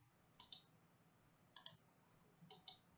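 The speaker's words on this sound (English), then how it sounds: "when I right click on this" Right-clicks on a computer mouse come as three quiet pairs of crisp, close clicks spaced about a second apart over a faint background hum.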